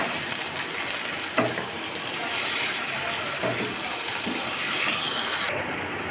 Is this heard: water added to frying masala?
yes